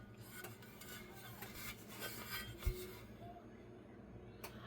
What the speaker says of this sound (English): Well, I got these pans pulled out right here.